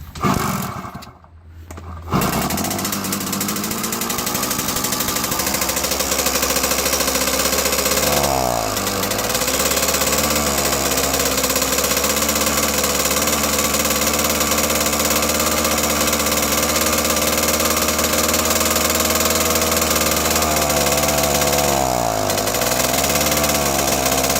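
A Kawasaki KE100 two-stroke motorcycle engine with a carburetor needing adjustment idles steadily and loudly up close after a brief start, with two slight dips in revs along the way.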